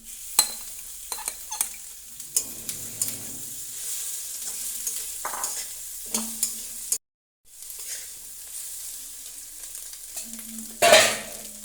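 Ingredients for egg pasta fry in a pan with fried egg, stirred now and then with a utensil, making a steady close sizzle broken by sharp scraping clicks and a brief silent gap.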